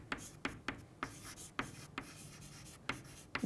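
Chalk or marker strokes on a board during a chemistry lecture on electrochemical cells, sharp regular taps and short scratchy strokes about every half second, fairly quiet, with no talking over them.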